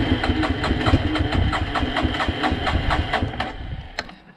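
A small engine idles with a steady, rapid mechanical chugging after the choke is applied, loud and close with no talking, the pulsing slightly uneven before fading toward the end.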